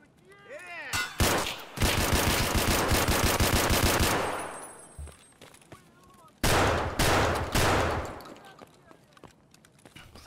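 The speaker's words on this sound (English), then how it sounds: "I'm gonna use SKS." SKS rifle fire in a video game rings out in loud rapid bursts of shots, two long volleys separated by a quieter gap with scattered single pops and faint voices.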